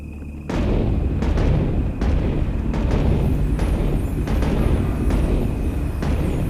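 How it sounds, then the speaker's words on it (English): Cannons firing in the video game Guild Wars 2 during a fort battle, a loud continuous rumble of battle noise with repeated heavy booms landing roughly every half second to second, no talking. "Get those cannons firing!"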